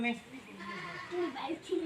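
A goat bleats a few times in short wavering calls, close by, while people talk over it.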